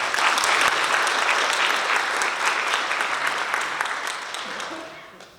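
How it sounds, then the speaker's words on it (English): A large audience at a Winthrop National Honor Society ceremony gives a sustained round of applause for the students' families, dense and steady throughout before tapering off at the very end. "So let's give our families a round of applause."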